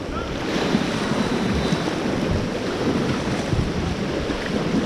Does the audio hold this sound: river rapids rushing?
yes